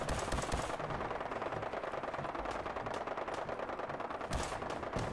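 Gunfire in Fallout 4, heard as rapid bursts of automatic fire, loud and dense at the start and again near the end, with scattered single shots between over a steady background rumble.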